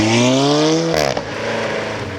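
A 2015 Alfa Romeo 4C sports car accelerating hard, the engine note climbing loud and close, then a sharp gear change and the revs picking up again.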